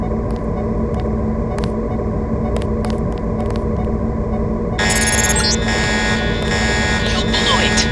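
An alarm goes off in the Deus Ex video game, a loud harsh electronic blare that bursts in partway through over a steady low hum and scattered clicks.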